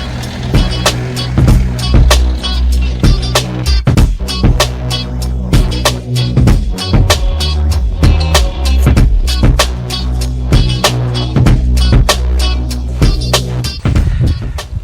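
A John Deere 6910 tractor loads an Amazone Catros+ 3001 harrow onto a platform: a steady low engine rumble runs throughout, with frequent sharp metallic clanks and knocks close by.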